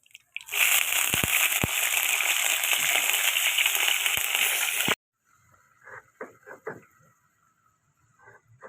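Potatoes drop into hot oil in a pan after paneer has been fried. A loud, dense sizzle bursts in and roars steadily for about four seconds, then cuts out to near quiet with a few faint clicks and knocks.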